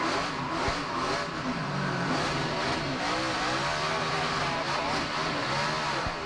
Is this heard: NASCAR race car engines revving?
yes